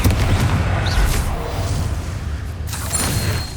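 An explosive Confringo spell in the video game Hogwarts Legacy, a loud booming blast with rumbling low-end that swells and lingers, followed by another crackling burst toward the end.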